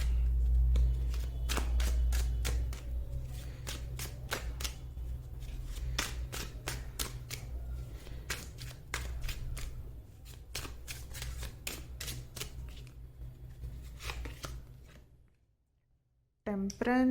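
Tarot cards shuffle by hand in quick, repeated riffling bursts over a steady low hum, close and fairly clear, dropping to near silence near the end.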